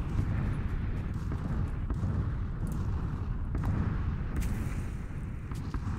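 Red zone explosions in the PUBG video game, a dense rumbling barrage of distant booms and thuds rolling continuously, with a few sharper cracks standing out over the low roar.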